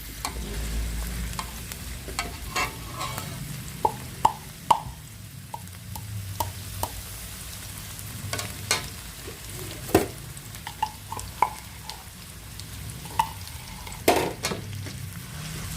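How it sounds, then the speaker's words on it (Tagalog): Corned beef and bihon noodles sizzle in a pan, with a soft continuous frying hiss under repeated sharp clacks and scrapes of a utensil stirring, with no talking. "Haluin muna natin ng bahagya para ma-mix ang lasa."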